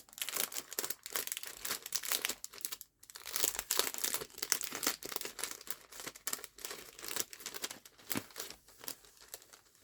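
A parcel being opened, its packaging crinkling and tearing in a continuous busy rustle of crisp crackles with brief pauses, close and fairly quiet.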